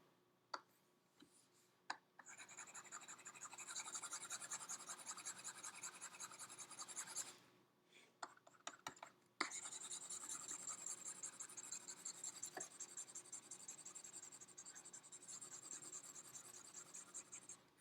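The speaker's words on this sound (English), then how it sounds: "I'm just going to erase my top part here so I can continue on up here." Marker scratching and rubbing on a board, sustained scribbling strokes with short pauses and a few sharp taps, close and fairly quiet with no talk, as math is erased and rewritten.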